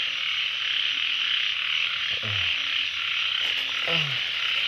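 Frogs croak in a rainy field with a constant hiss of rain and insects, a few distinct low croaks standing out close by, spaced a second or two apart.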